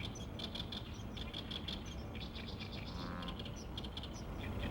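Sandpipers calling at the Nakdong River estuary, with faint, distant chirps and short repeated calls scattered over a steady low rumble of wind and ambient noise.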